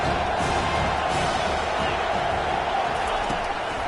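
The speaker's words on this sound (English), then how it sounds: "this crowd trying to help keep them there." Football stadium crowd at an Irish versus Hogs game, a continuous broad roar of cheering fans filling the whole stretch, steady and dense with no clear breaks.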